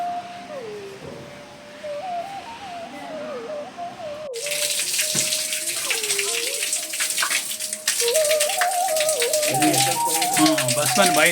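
Water spouts from the mouth of a carved stone bull at the Antargange spring, a continuous splashing gush that swells louder midway, heard beneath someone talking nearby.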